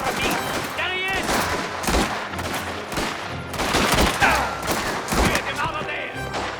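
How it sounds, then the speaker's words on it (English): Rapid bursts of gunfire ring out in the video game Mafia: The Old Country, a chaotic fusillade of overlapping shots at close range, mixed with shouting voices. "Gunshots!"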